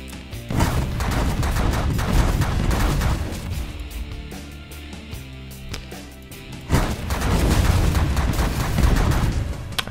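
Rapid automatic gunfire from ship weapons in The Last Federation, dense crackling bursts and booms with a pause mid-way before resuming at full intensity, no voices.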